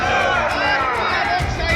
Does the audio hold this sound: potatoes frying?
no